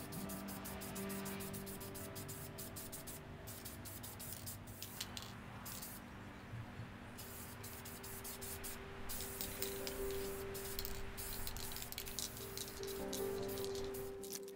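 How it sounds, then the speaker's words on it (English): Satin apple red spray paint hisses from an aerosol can onto a prop rifle, a steady close spray that runs almost continuously with brief breaks between passes. "Then the whole thing can get hit with a satin apple red spray paint."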